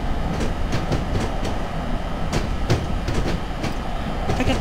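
Steady rumble and rhythmic clickety-clack of a locomotive running along the North Jersey Coast Line in Train Simulator, heard from the cab, continuous and fairly loud with no talk.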